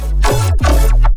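Layered synthesized bass for a colour bass drop, several stacked synth layers with an LFO-modulated oscillator playing together in two sustained, buzzing phrases with pitch glides, loud and alone.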